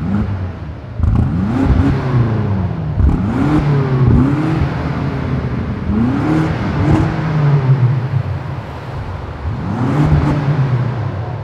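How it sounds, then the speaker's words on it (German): A BMW M5 CS engine revs repeatedly while stationary, with several loud, deep, bassy rises and falls in pitch up to its soft limiter, close by and without talk. "Kannst auch mal BMW ein bisschen hoch, bisschen hochdrehen."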